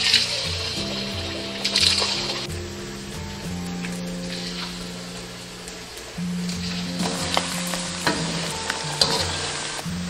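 Pork slices thickly coated in sweet potato starch drop into medium-hot oil for Sichuan crispy pork, a close bubbling sizzle that swells as pieces go in, with stirring and a couple of louder bursts.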